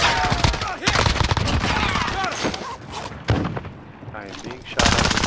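Gunfire rattles through a video game match in loud, close bursts and scattered shots that come and go in waves, with a brief lull before a final heavy burst.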